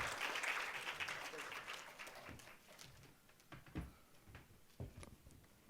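A conference audience gives a round of applause that starts fairly loud and quickly thins into scattered, fading claps.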